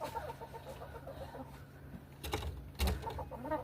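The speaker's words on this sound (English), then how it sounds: "the chicks are in there enjoying themselves" Chickens in their run in a home garden, giving soft, repeated clucks at a moderate distance over a low background hum, with a couple of louder knocks near the end.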